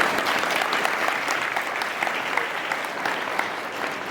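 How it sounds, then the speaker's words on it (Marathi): An audience at a commemorative public meeting breaks into sustained, dense applause, many hands clapping in a steady wash that holds at an even level throughout. "यांच्यासाठी तुम्ही टाळ्या वाजवल्या"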